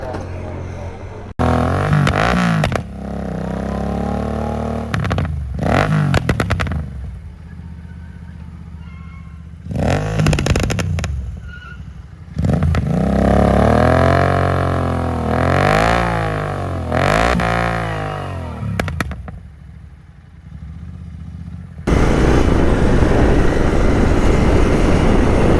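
A tuned Royal Enfield GT650 motorcycle rides through Hyderabad at night, its engine rising and falling in repeated revving bursts with pops and bangs, loud and close, broken by quieter gaps and ending in steady roaring noise.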